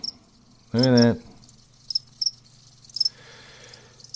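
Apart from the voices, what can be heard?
crickets chirping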